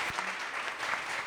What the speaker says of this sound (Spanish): Así que un aplauso nuevo a Alfredo, de verdad.